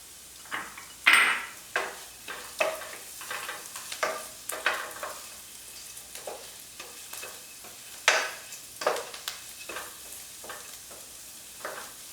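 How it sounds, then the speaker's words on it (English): Minced garlic sizzles in a hot pan for a mushroom spinach risotto as a utensil stirs and scrapes, giving repeated light clinks and hisses with no talking. "I'm going to add actually 3 garlic cloves that have been minced."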